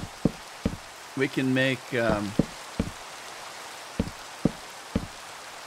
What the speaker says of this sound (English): Rain, I hate the rain.